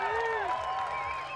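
Spectators cheer and whistle at a Hard MTB League qualifier mountain bike race, a loud, sustained mix of voices and whistles that holds steady throughout.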